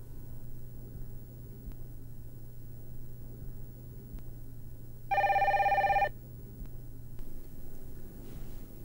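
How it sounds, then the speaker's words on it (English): A telephone bell rings once in a loud, steady burst of about a second over a low room hum, in a short film scene. "The phone? Yeah, the telephone."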